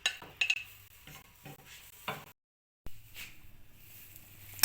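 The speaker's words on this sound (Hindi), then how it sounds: "इसमें ये पिसा हुआ लहसुन ऐड करके हल्का सा फ्राई कर लेंगे" Minced garlic fries lightly in hot oil in a pan, giving a soft sizzle with scraping and stirring clatter, broken by a brief gap of silence and then more stirring.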